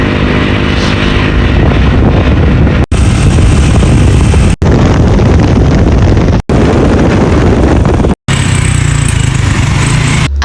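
Loud wind buffeting a microphone while riding in the open on a moving vehicle, with engine drone underneath and a few brief dropouts.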